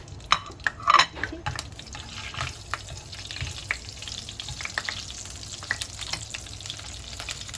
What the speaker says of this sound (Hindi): जैसे ही तेल थोड़ा सा गर्म हो जाएगा ये सारे खड़े मसाले इसमें मैं डालूँगी